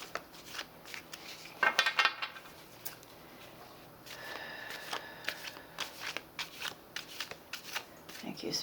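Fountain Tarot deck being shuffled by hand, repeated close riffling and card-slapping bursts, with soft speech in between.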